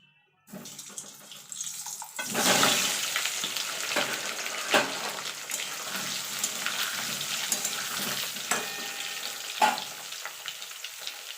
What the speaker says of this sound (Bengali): এবার তেলটা গরম হওয়া পর্যন্ত দেখুন বন্ধুরা তেলটা আমার গরম হয়ে গেছে এবার আমি আলুগুলোকে ভেজে নেব